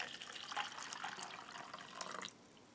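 Hot water poured into an MRE coffee packet from an early-1980s Long Range Patrol food packet, a close bubbling trickle that runs steadily and then stops abruptly near the end.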